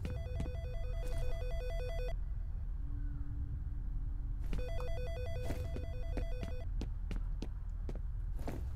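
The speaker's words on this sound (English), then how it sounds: "Phone's ringing." An electronic telephone rings in a bursts-and-pauses pattern inside the first-person shooter game F.E.A.R., over a low droning background hum with a few sharp clicks between rings.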